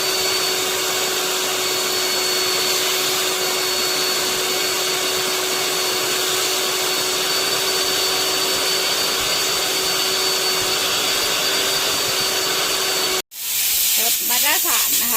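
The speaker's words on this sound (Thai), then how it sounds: "ดูดฝุ่นทำความสะอาดภายในรถให้นะคะ" A vacuum cleaner cleaning a Mazda3 car interior roars steadily and loudly up close with a constant whine, cutting off briefly near the end before starting again.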